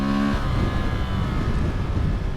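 Honda Transalp 750 motorcycle engine revving hard at high rpm, a loud, steady, buzzing drone with rising pitch at the start, heard up close without speech.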